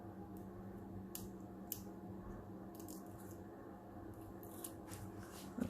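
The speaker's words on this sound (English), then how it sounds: "I use the point of my scissors to get a hold of my paper." The tip of a pair of scissors picks at creased paper, giving a few short, faint crisp scrapes and rustles at irregular intervals over a quiet room hum.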